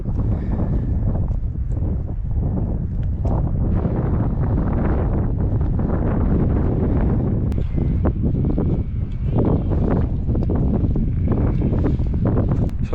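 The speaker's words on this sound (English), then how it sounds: "said it was only about 10-mile-an-hour winds today, and you can feel it picking up already" Steady wind buffeting the microphone on a steep mountain ascent in the Lake District fells, a constant loud broadband rush with gusty surges and no speech.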